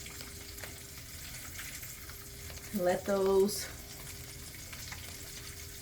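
Vegan mushroom tenders sizzle softly in hot oil in a pan, a faint steady frying hiss with a brief louder clatter as pieces are lifted out, while a person speaks briefly.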